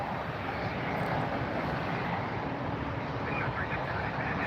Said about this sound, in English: Next departure in front of us is going to be Spirit Airlines, Flight 2547, heading to Louisville